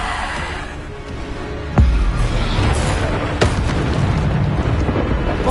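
A Bombarda explosion spell goes off in Hogwarts Legacy on PS5: one sharp, loud blast, then a rumbling roar and a second, smaller burst amid constant game noise.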